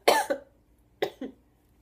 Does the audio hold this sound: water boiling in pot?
no